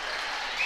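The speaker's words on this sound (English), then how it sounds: "this Buckeye Central crowd erupts" A high school boys' basketball crowd in a gym roaring and applauding after a timeout is called, a dense, steady burst of cheering that swells slightly at the end.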